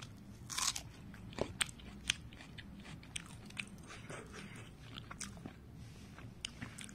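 Raw onion is crunched and chewed close up during a dinner of chicken tadka and roti, with sharp bites followed by quieter, irregular chewing crackles.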